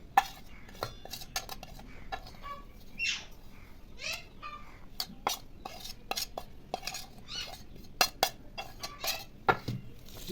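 Spoon clinking against a bowl while spices and yogurt are mixed together, a steady run of small scraping taps and sharp metallic clicks at close range, with brief squelchy smears in between.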